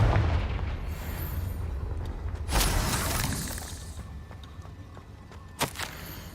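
A Confringo spell from Hogwarts Legacy goes off with a sharp, crackling blast that trails into a fading rumble, followed by a smaller snap near the end over constant game ambience.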